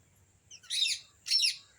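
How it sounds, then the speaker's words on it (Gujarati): A parrot calls from a village farm field, giving two short, bright squawks about half a second apart, moderately distant, over quiet outdoor background. "પોપટ જો ટવકા કરે ક્યાંક"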